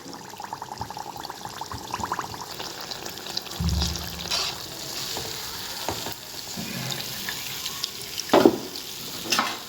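Athirasam, sweet Tamil rice-and-jaggery fritters, fry in hot oil with a steady crackling sizzle, plus occasional clatter and scraping of a utensil against the pan nearby.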